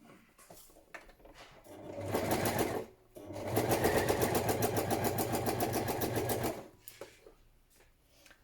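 A sewing machine runs loud and steady, stitching fabric for a padded patchwork journal cover, with a short burst, a brief pause, then a longer continuous run before stopping.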